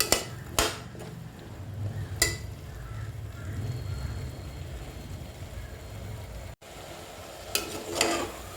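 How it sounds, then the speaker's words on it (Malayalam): Onions and shallots sautéing in a little oil over a medium flame for a traditional Kerala chicken curry, a soft steady sizzle broken by occasional sharp scrapes and clinks of a spoon against the pan, with no talking. "ഇത് നന്നായിട്ട് വഴക്കിയെടുക്കാം"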